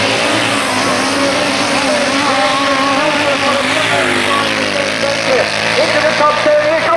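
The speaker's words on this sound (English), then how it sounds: "They go past us with a lap to go" Grasstrack racing motorcycles at a 1990 meeting roar past at close range in one loud, continuous wall of engine noise, with a commentator talking over it throughout.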